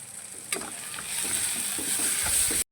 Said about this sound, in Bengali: মধ্যে অল্প নুন, হলুদ গুঁড়ো আর লঙ্কার গুঁড়ো দিয়ে ভালো করে কষিয়ে নেব।